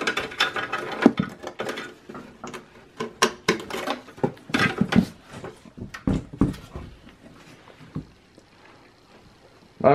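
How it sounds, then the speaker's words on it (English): Screws being taken out of a Lenovo ThinkCentre M92p/M91p desktop case with a Phillips screwdriver: a dense run of close, sharp ratcheting clicks and metallic ticks, clustered in bursts, then quieter after about eight seconds. "removing the screws. Using a Phillips head."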